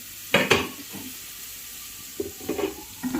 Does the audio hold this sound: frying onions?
yes